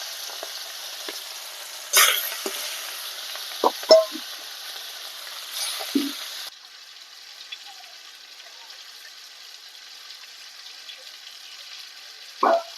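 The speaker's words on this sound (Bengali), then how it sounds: "এইভাবে আমি বাকি মাছগুলোকেও ভেজে নেবো" Soft, steady sizzle of prawns frying in oil, broken by a few sharp pops and light clatters, then quieter frying.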